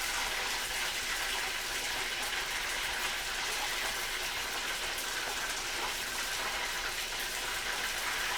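Poblano chilies frying in a lot of hot oil, a loud, continuous bright sizzle and crackle, steady and close throughout without pauses.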